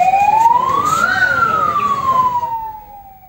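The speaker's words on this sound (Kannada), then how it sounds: "ಕ್ಷೇತ್ರದ ಪ್ರಭು ಸಾರಂಗ ಸ್ವಾಮೀಜಿ ನೂತನ ಆಂಬ್ಯುಲೆನ್ಸ್ಗೆ ಚಾಲನೆ ನೀಡಿದರು." An ambulance siren wails loudly at the flag-off of a new free ambulance, its tone sweeping up then gliding down in a single long cycle, fading slightly at the end with no talk over it.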